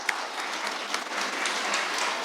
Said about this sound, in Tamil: பேரண்ட்ஸ் எல்லோரும் ஒரு பெரிய கைதட்டு கொடுங்க